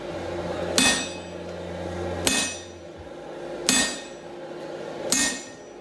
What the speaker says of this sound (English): I'm just going through with a hand hammer and trying to planish out all the fuller marks